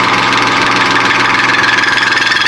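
Lathe insert lightly boring a relief into soft jaws, a steady, loud mechanical whir with a constant machine drone and dense high-pitched cutting hiss running throughout, no talking.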